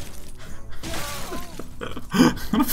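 Hearthstone's Shatter mage spell effect: a crisp glassy icy shattering burst, preceded by softer magical whooshes and tonal sweeps, ending in two bright cracking impacts close and loud.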